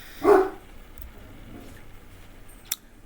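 A dog gives one short, fairly loud bark near the start, followed by quiet room tone and a brief faint click later, while a vehicle sits outside near the house.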